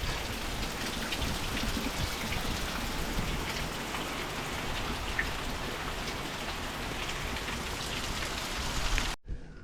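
Heavy rain from Tropical Storm Debby pours down in a dense, steady hiss of drops hitting surfaces, loud and continuous, with no voices, cutting off abruptly at the very end.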